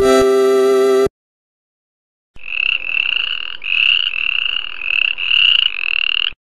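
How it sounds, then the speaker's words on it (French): A cartoon frog croaks in repeated ribbit bursts for about four seconds, loud and close, in a children's educational animal-sound game, preceded by a short bright synthetic jingle and a pause. "Grenouille."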